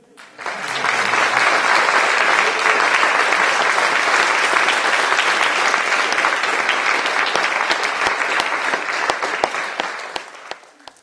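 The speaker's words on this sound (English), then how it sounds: "the crowd give him a huge round of applause" A large live audience at a performing arts centre bursts into a loud, dense round of applause that holds steady for about ten seconds before thinning out to a few scattered claps, with no talking.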